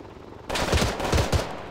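Automatic gunfire in ArmA 3, a quiet lull suddenly broken by a sustained close burst of rapid shots with several punchy reports, continuing loud to the end.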